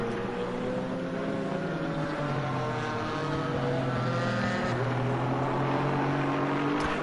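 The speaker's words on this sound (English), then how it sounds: "Bailey number 4 in the Porsche Cayman." Porsche Cayman GT4 race cars lapping Misano in a racing video game, a continuous loud engine drone with rising and falling gear-change pitch sweeps, several cars blending together without a break.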